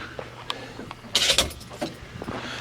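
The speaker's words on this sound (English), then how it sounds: "Let me grab the keys real quick, and I'll open up the trunk." Opening the trunk of a 1967 Plymouth Sport Fury hardtop coupe: a few faint taps and key clicks, then a sharp metallic latch release and the lid clunking open, close by with light movement after.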